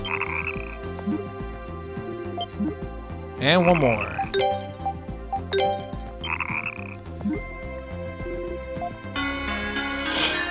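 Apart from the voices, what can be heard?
verdant frog croaking in the video game Ys IV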